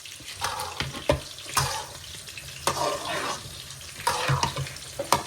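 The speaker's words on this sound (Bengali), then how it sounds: "এখন এটা চাউল যে বিরান করবো" Sylheti sticky rice being dry-fried in a pan before ghee goes in, with a soft sizzle beneath repeated scraping and stirring strokes that come in loud bursts.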